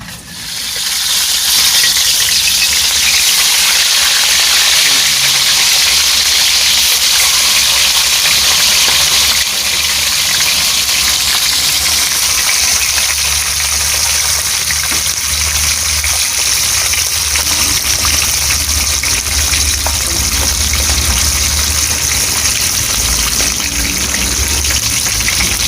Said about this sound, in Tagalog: Mga kasyat, piprito na natin itong tilapia.